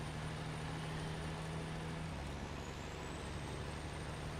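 Truck engine in the SnowRunner video game: a steady, loud diesel drone with a constant low hum throughout and a rising whine partway through, no talk.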